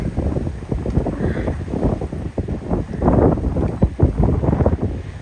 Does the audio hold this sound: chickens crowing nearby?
no